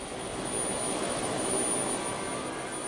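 Helicopter engines running during a Hurricane Katrina rescue flight, a steady loud whine and rushing turbine roar with a thin high-pitched tone on top, continuous and without voices.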